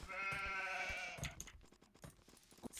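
Sheep bleat loudly in a real-time strategy game, one long wavering bleat for about a second followed by quieter game clicks and faint effects.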